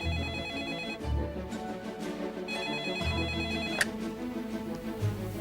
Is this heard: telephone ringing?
yes